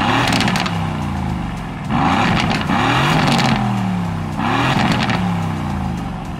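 An Aston Martin sports car started by pressing a button with a foot on the brake, its engine catching and revving hard in three loud surges with falling whine between them, close and alone.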